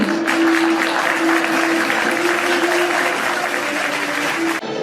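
Hall full of people clapping at an alumni meet of LTIPS Pune and LTIP Kharghar, steady loud applause lasting a few seconds with a faint tonal hum running beneath, stopping abruptly at the end.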